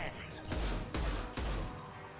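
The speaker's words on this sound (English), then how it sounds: "Firing an impact shot." Impact shot gunfire in the video game Mass Effect 2, a rapid series of three heavy, booming blasts, each followed by a sharp crash, loud and close over a dense background of game noise.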